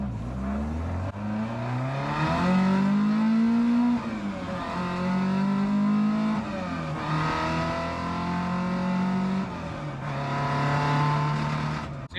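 An engine revs hard toward the top of its range in a project car, a steady loud drone rising and falling in pitch through several long pulls, close and continuous with no voices.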